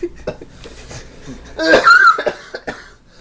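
A person coughs hard and close, a loud raspy fit of several harsh bursts after some quieter breathing and throat sounds.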